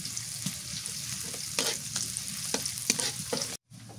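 Hilsa fish and flat beans fry in a hot pan, a continuous sizzle broken by several scraping stirs, with a brief gap near the end.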